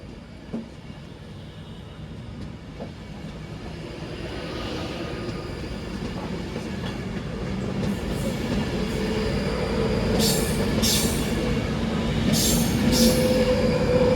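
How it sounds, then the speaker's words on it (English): Train rolling through Stoke-on-Trent station, a steady low rumble building gradually as it passes close by, with brief high wheel squeals and metallic screeches toward the end; no talking. "Train now arriving into platform 1 is the 1658 London North Western Railway service to Stafford"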